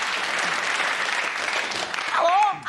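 A studio audience on a TV comedy panel show cheers and applauds loudly and continuously, with a voice breaking through at the end.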